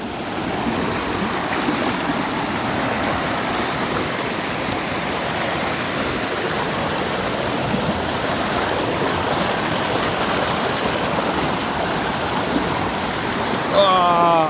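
The cold, clear Beušnica river in Romania rushes and splashes steadily, a constant loud broadband flow of water throughout, with a brief whistle-like sound near the end.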